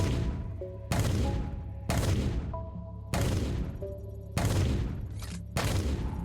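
Six heavy rocket launches fired one after another at about one-second intervals from a video game weapon, each a loud booming blast with a decaying tail, alone with no talk.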